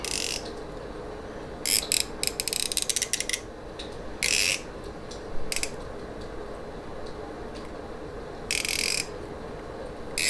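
Ratcheting clicks from the unidirectional bezel of an Invicta Darth Vader watch being turned, coming in several short close bursts with pauses between them.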